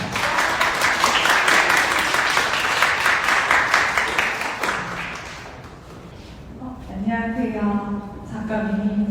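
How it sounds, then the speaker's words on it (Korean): An art talk audience applauds to welcome an artist, close dense clapping for about five seconds that tapers off, then a person begins speaking. "큰 박수로 맞이해주시기 바랍니다"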